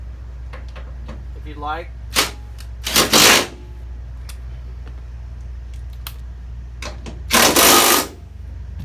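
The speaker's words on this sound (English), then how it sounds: "take your 15mm, just start it, snug them up, and then come back and you can torque them" A 15mm socket ratchets as grab bar bolts are snugged inside a Ford Transit van. It gives rapid clicking bursts and two louder metallic rattling spells over a low engine-like hum, and a brief voice is heard.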